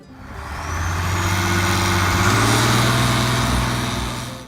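Diesel engine of an International Harvester 1066 farm tractor running steadily at a deep, loud idle-to-mid rumble, close by, holding constant for several seconds with a slight swell and no talking.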